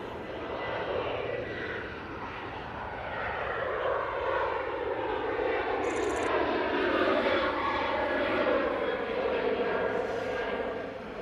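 A passenger jet climbs away from Manchester Airport on a flight to Barcelona, its broad engine roar building and holding loud and steady, with a slow Doppler sweep across the whole clip.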